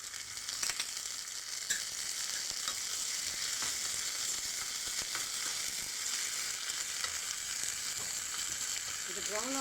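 Ginger and green chillies sauté in hot oil, giving a steady, close sizzle with faint scraping throughout and no voices.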